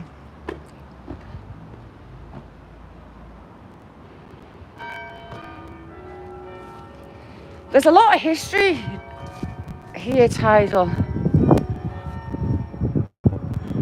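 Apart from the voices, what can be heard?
church bells ringing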